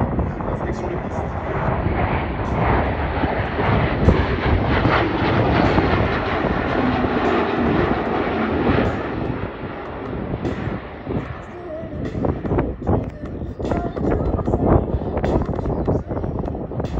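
An Airbus A400M Atlas military transport aircraft flies at an airshow, giving a steady, loud, broadband propeller-engine roar mixed with wind buffeting, lasting throughout.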